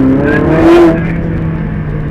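A Ferrari 458 Italia revs hard and close, its engine note rising and swelling to a peak before easing off into a steady drone.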